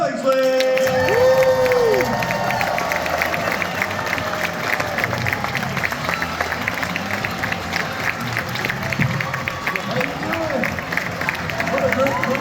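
A holiday audience welcomes Peter Billingsley, known as Ralphie from A Christmas Story, with sustained cheering and applause. The clapping and shouting are loud and continuous throughout, with a few whoops rising above the dense roar of the crowd.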